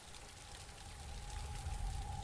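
Soft, steady rainfall in the video game Kynseed, a faint continuous patter and hiss with a low rumble underneath and a thin tonal hum running through it.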